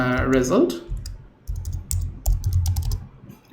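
Code is typed on a computer keyboard in a PHP programming lesson, with quick close clicking keystrokes in short bursts. Someone speaks briefly at the start, then the typing continues on its own.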